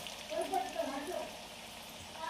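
Jackfruit chips fry in well-heated oil in a home kitchen, giving a steady, soft sizzling hiss while someone talks over it.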